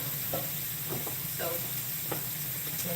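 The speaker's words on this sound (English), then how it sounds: "So let me stir these real quick." Chicken sausage sizzles steadily in a pan while a utensil stirs it, with a few soft scraping strokes over the constant frying hiss, close and fairly quiet.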